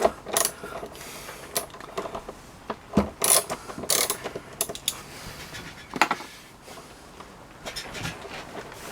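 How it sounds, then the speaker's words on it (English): Ratchet wrench taking bolts off the fairing of a Yamaha XJ400Z motorcycle, heard as bursts of close, sharp clicking separated by short pauses, with no talking. "I'll take the bolts off at the back."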